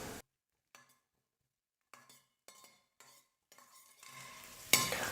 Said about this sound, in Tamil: நெய் நல்லா உருகுனதுக்கப்புறமா கொஞ்சமாக முந்திரி சேர்த்துக்கிறேன்.